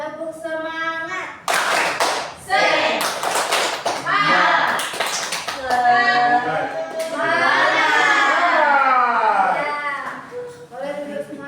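Schoolchildren in a classroom perform a rhythmic group clapping chant, sharp claps in quick patterned bursts mixed with loud chanting voices, the whole class clapping and calling out together at close range.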